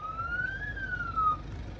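A single short wail from the siren on a newly bought truck rises and falls in pitch. It is fairly faint over a low background rumble.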